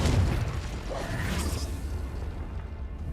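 A Confringo fire-blast spell bursts in Hogwarts Legacy with a sharp whooshing pop and a rumbling boom that settles into a low, mechanical creaking tail, heard alone and fairly close.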